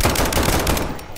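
Rapid burst of automatic gunfire shooting at a monster in the tactical horror shooter SCP 5K, loud, close and continuous with no talk over it.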